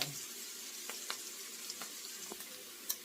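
Onions frying in a pan for homemade chili, a faint, steady sizzle with occasional soft pops and crackles, heard alone.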